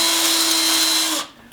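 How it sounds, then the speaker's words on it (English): A power drill spins at a steady high-pitched whir while marking a hole spot on thick concrete, running close and loud for about a second before it stops abruptly, with no talk. "We'll take the drill and just make a mark"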